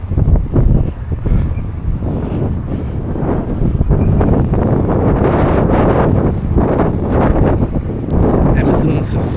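Strong wind on a windy afternoon beside choppy water in Sheffield city centre, near a wharf with narrowboats, buffets the microphone with a loud, continuous low roar and gusty rumbles throughout.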